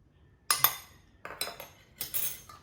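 Ukoy batter of flour and cornstarch being stirred in a bowl, giving several close clinks and scrapes of a utensil against the dish in uneven bursts, with no voices.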